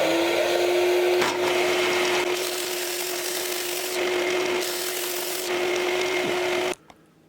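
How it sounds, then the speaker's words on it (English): A power sander works a wooden mitre held on a jig, giving a steady whining drone with a rasping texture and slight pressure changes before it cuts off abruptly near the end. "make sure that mitre is perfectly sanded"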